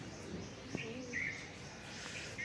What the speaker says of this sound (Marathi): पक्ष्याचा चिवचू आवाज येतोय